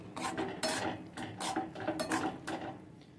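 A utensil stirs a bean paste dish in a pan, with repeated scraping and clinking strokes at an uneven rhythm. The sound is close but fairly quiet, and no one speaks.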